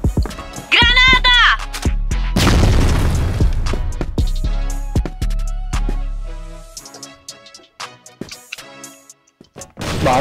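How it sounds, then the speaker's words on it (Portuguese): A grenade detonates in the CrossFire first-person shooter, a loud booming burst partway through that is surrounded by sharp gunfire clicks and thuds, with players talking over the action. "Granada!"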